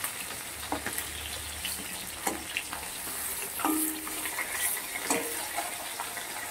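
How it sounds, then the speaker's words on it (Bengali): Fish frying in hot oil in a home kitchen while the pieces are flipped, a low steady sizzle broken by a few sharp clatters and splashy bursts as they are turned. "বাকি মাছগুলোকে আমি উল্টো পাল্টে ভেজে নিচ্ছি"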